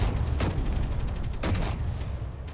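Base defense turrets in a video game fire outside, a dense, continuous roar of rapid gunfire with a few heavier bursts standing out, loud and steady throughout.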